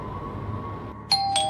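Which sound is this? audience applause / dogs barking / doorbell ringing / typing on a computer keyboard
doorbell ringing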